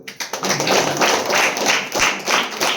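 An audience applauds once more: a few sharp opening claps build into steady, dense clapping with rhythmic pulses that carries on without any voices.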